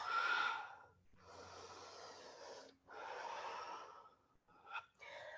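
Slow, deep breaths during a vinyasa yoga flow, long airy inhales and exhales in sequence with brief pauses between them, close and fairly quiet, ending with a couple of short sharper breaths.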